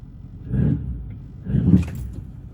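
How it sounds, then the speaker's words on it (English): A truck with a 5R110W automatic transmission is shifted from neutral into drive. A low, close engine rumble swells twice, with a muffled clunk as the gear engages after a delay. "Now there's a delay going into drive. Got neutral, drive."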